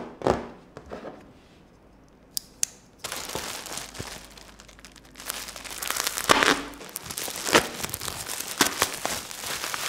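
Plastic packaging for a K&F Concept variable ND2–32 plus CPL filter gets crinkled, torn and handled close up in irregular rustling bursts, with a quieter stretch midway.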